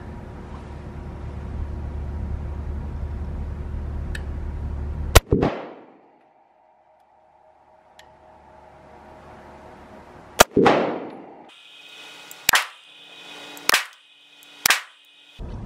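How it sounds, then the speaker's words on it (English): A Smith & Wesson Shield pistol fires single shots slowly at an outdoor range, several sharp, loud cracks spaced seconds apart, each with a brief ringing decay. "I'm gonna fire a few shots slow at first."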